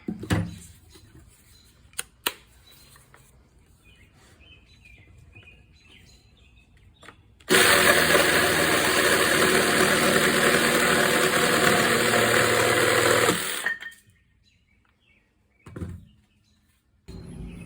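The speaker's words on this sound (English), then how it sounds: "we're ready to go ahead and take the cut using a jigsaw to do this" A cordless jigsaw cuts through wood in a single loud, harsh buzzing burst of about six seconds, framed by quiet handling knocks and faint background noise before and after.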